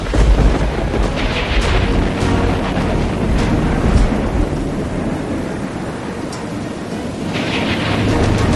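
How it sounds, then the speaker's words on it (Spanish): Loud thunder rolls and booms through a heavy downpour, with deep rumbling swells rising and fading over continuous rain hiss. "Detrás se precipitó la lluvia y los truenos se oían cada vez más cercanos."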